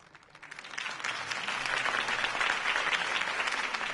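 Applause from a crowd after a campaign speech rises quickly from a soft start into a full, sustained wash of clapping, loud and even across the room with no speech.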